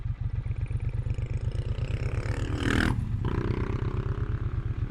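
A motorcycle roars past close by, its engine rising to a brief swell before fading, over a steady low rhythmic engine rumble.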